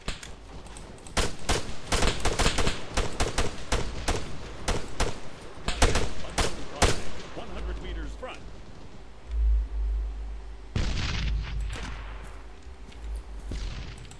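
Gunfire in the video game Arma 3 during a co-op insurgency mission: rapid bursts and single sharp shots, some close and loud, with heavy low booms and players talking over the shooting.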